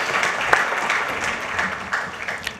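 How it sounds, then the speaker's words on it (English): An audience at the Global Citizen India Festival 2016 applauds with a steady wash of clapping and a few sharper individual claps that stand out throughout. "let's give them a round of applause"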